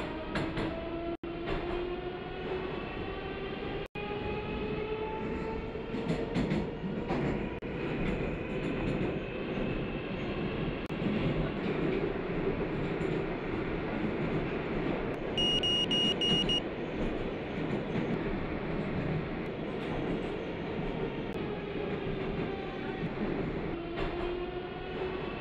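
A Rusich metro train runs through a tunnel in a Moscow metro 2D simulator game, a continuous loud rumble with rising and falling motor whine, rail clicks and a brief high beeping tone partway through.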